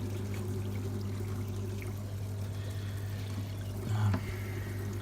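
Aquarium water pours steadily from an overhead sump back into a fish tank, making a continuous trickling stream at close range with one brief louder splash near the end.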